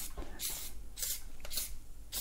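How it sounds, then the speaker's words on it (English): Four short, breathy spray bursts from a trigger bottle of cleaner onto an electric unicycle wheel at roughly even intervals, close by, with faint background noise between them. "I'll just lightly spray it"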